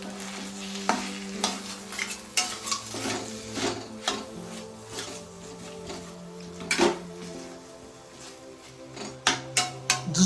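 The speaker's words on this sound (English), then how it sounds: "So add in the coriander and you're done. Give it a good mix." Chicken dry fry with freshly added coriander being stirred in a pan, with a steady sizzle under irregular scraping and clinking strokes of the spatula, some sharper knocks near the end.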